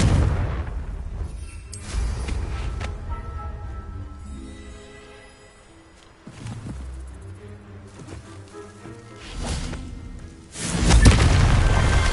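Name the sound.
Confringo spell blast explosion in a video game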